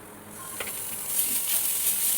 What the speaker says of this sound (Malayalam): കുറച്ച് ഇഞ്ചി വെളുത്തുള്ളി പേസ്റ്റ് കൂടെ